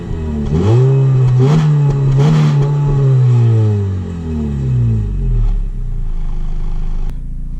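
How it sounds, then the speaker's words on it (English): A manual car's stock exhaust rises and falls through a couple of loud revs, the engine climbing twice in pitch, holding, then sagging back down to a low idle near the end, with no voices. "Give it a couple revs."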